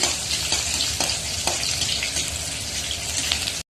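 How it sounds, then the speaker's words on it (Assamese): Chopped onions sizzle and crackle steadily in hot oil with turmeric, frying until reddish for a fish curry, with occasional scraping stirs; no one speaks. "ৰঙচুৱা হোৱালৈকে ভাজিব লাগিব।"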